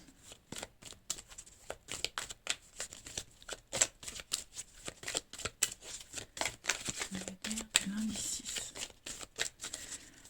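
Tarot cards shuffled and flicked in a rapid run of crisp, papery riffles and snaps, fairly close and steady throughout, with a voice speaking briefly near the end.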